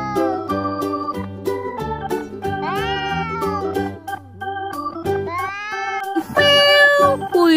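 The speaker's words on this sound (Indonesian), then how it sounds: "ada seekor kucing" A cat meows a few times over a bouncy musical backing, the cries rising and falling in pitch, fairly loud and close.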